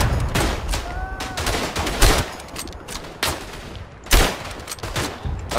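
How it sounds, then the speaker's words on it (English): Machine gun fire in the World War I shooter game Verdun: repeated loud, close bursts of automatic gunfire in an uneven rhythm, with distant shots and battlefield noise filling the gaps. "there's a guy with a fucking machine gun"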